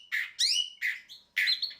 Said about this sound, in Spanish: En el camino se cruzó con los otros pájaros que ya venían de regreso, y todos los que encontraba ya venían presumiendo su voz